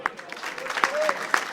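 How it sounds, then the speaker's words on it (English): Crowd applause at a sporting club boxing bout after a round, steady clapping with sharper individual claps standing out, a faint whistle heard, and talk underneath. "gets a round of applause, as does Rob"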